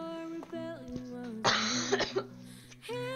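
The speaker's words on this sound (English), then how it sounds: "I promise I don't cough this much." A person coughs a few times up close while melodic game music plays steadily underneath.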